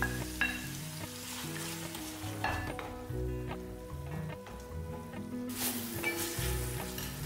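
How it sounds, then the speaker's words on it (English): Chopped spinach cooks with tomato puree in an oiled pan, a steady close sizzle and bubbling fry with intermittent stirring clatter, no voices. "now add chopped spinach and cook for 1 more minute"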